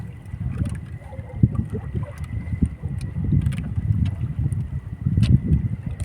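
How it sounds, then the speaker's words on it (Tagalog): Wind buffets a small fishing boat at sea, a rough, continuous low rumble and gusting noise against the microphone, steady throughout, with faint water sloshing underneath. "Saka mahangin pa."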